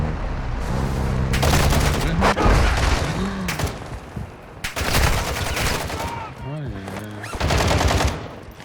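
Bursts of rapid automatic gunfire in Call of Duty: Warzone DMZ crackle in several loud volleys, separated by short pauses, with a voice talking in the gaps.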